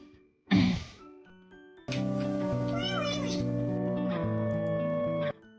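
A cat gives one short, loud meow up close, followed by a sustained musical tone and background voices after a brief pause.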